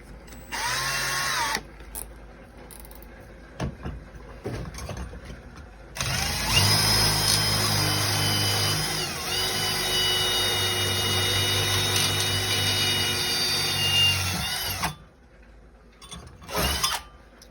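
A power drill bores an 8 mm hole: a loud, steady whirring drone of about eight seconds, with short bursts of the motor spinning up before it and after it.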